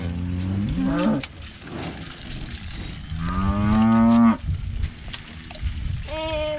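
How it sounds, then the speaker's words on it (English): Mama cows in a farm field moo loudly and close by, several long drawn-out calls overlapping one another with short gaps between them. "these are all our mama cows"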